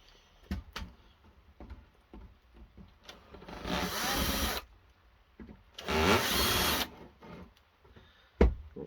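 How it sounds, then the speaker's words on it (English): A screwdriver works screws loose from a Sky+ HD satellite box casing, with small clicks and taps followed by two longer grinding, rasping turns, close and fairly quiet with no talking. "So we'll just get the screwdriver out and we'll remove those."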